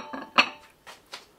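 Goulash being dished into bowls, with a few sharp clinks and knocks of crockery and utensils, close and fairly quiet, one louder clink standing out among softer taps.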